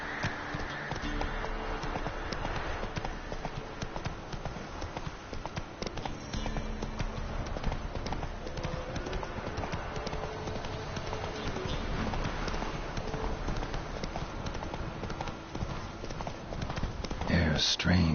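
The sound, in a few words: horse Roach galloping, hooves, in video game The Witcher 3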